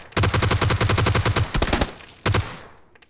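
Rapid automatic gunfire in a PUBG video game match, a loud, evenly spaced string of shots followed by a few separate bursts and fading echoes.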